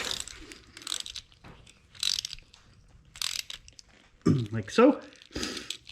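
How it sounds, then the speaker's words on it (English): Quick bursts of ratchet clicking as a wrench tightens a concrete anchor for a 9000 lb vehicle lift, close and fairly loud, with someone speaking briefly. "That just tightens the anchor to the concrete, like so."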